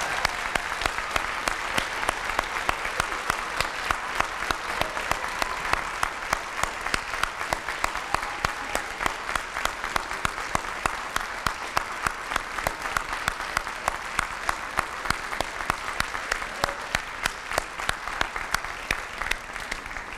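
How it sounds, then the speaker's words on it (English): An audience at a high school scholarship awards assembly applauds the honored students, a steady dense clapping that carries on for about twenty seconds without a break, no one speaking. "let's give these outstanding students a round of applause"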